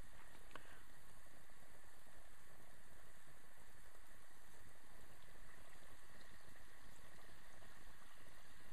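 Beignets sizzle and bubble steadily in hot oil, a continuous dense crackling hiss at moderate level with no talk.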